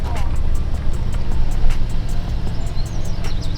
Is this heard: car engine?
yes